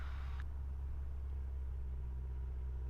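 A Piper Archer's piston engine holds a steady low rumble during a magneto-check run-up, loud and continuous, with a brief higher whine cutting out early.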